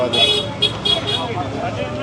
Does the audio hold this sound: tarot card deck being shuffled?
no